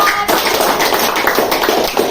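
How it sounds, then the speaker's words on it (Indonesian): Brief round of classroom applause for a student group, a dense patter of many hands clapping at close range with no talk over it. "tepuk tangan untuk kelompok 4"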